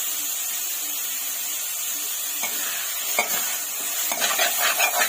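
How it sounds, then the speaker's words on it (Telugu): Fried coriander and mint leaves are scooped and stirred from a pan into a bowl while making a preserved chutney. A steady close sizzle runs underneath, with scraping spoon strokes growing busier toward the end. "ఇప్పుడు నేను ఈ ఆకు వేరే బౌల్లోకి సపరేట్ చేసుకుంటున్నానండి"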